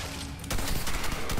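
Rapid alien needle machine gun fire in Red Faction Armageddon, a dense continuous burst starting abruptly partway in after quieter game ambience, loud and close.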